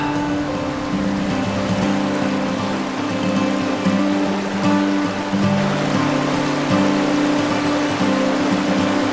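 A spring-fed mountain creek rushes along in a steady, loud, unbroken flow of water with no pauses.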